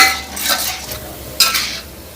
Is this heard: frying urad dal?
yes